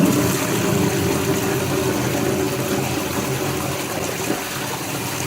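A limescale-stained toilet flushes, the water rushing and gurgling steadily at close range for several seconds, slowly easing off toward the end.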